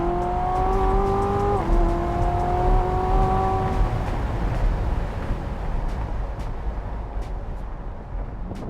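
Two American muscle cars, a Corvette Z06 and a Challenger Hellcat, launch hard off the start, a loud engine drone rising in pitch, dropping briefly at a shift, then fading into broad roaring noise as they pull away.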